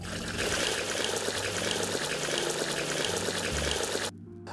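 Water draining out of a Forest River travel trailer's gray and black wastewater valves, a steady rushing gush that cuts off sharply near the end.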